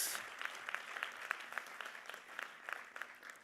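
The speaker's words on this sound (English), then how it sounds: "A round of applause to our graduates." Steady applause from an audience at a graduation convocation, faint and distant, with individual claps flickering through a continuous patter.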